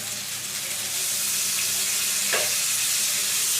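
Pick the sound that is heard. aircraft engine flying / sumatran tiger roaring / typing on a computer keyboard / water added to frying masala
water added to frying masala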